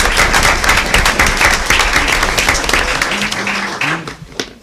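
A school board meeting audience claps in a loud round of applause that thins and fades toward the end, with a voice briefly emerging as it dies down.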